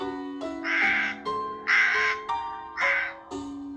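A crow caws in a series of harsh, loud calls, four distinct bursts spaced roughly evenly over a few seconds, heard close over a steady tonal background with no talk.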